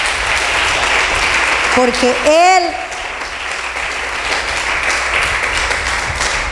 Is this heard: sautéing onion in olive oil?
no